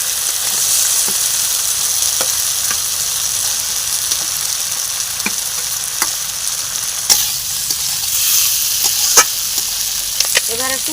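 Fish and vegetables hit hot oil cooked with turmeric, chili powder and salt, sizzling loudly and steadily up close, with scattered clinks and scrapes of stirring and brief quiet speech underneath.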